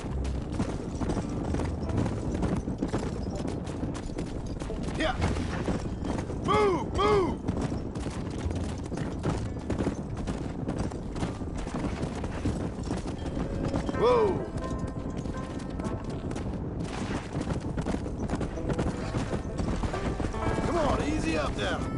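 Horse hooves clip-clopping at a steady gallop in the video game Red Dead Redemption, heard under continuous game sound with a rider's voice urging the horse on and occasional neighs.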